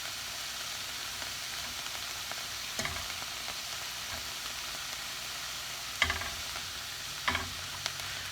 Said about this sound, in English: Our goal here is to get these onions a little bit of a glaze, or caramelize them down